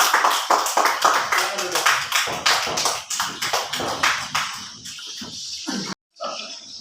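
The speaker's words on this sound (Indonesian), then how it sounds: "tepuk tangan untuk kelompok 2" Classroom of students clapping for a group that answered correctly, a burst of sharp, close, uneven claps that thins out and stops abruptly near the end, with voices mixed in.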